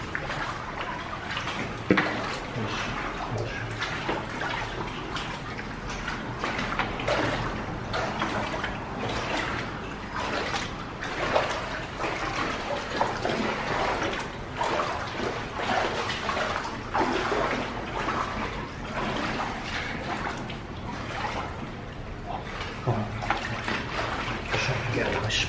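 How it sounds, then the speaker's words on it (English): Water from a sewer overflow pours steadily into Moss Brook near an old Manchester mill, a continuous close rushing splash that holds level throughout. "that is a sewer overflow that feeds directly into the Moss Brook"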